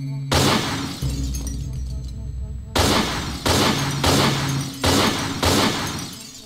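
In the video game Utopia City, glass bottles on a table shatter from gunfire in several loud bursts in quick succession, each a harsh crash with rough noise, close and forceful.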